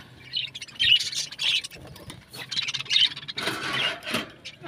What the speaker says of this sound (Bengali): এই জোড়া নতুন পাখি,